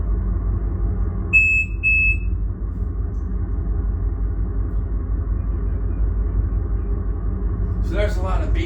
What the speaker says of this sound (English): there's a lot of beeping and stuff with this program and the simulation